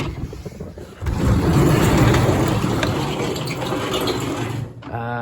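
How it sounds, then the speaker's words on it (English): A Sears Suburban snowblower engine fires up and runs steadily, loud and close in a garage on a very cold day, with a dense mechanical clatter that drops away briefly near the end before resuming. "get the snowblower started and see what I can do here"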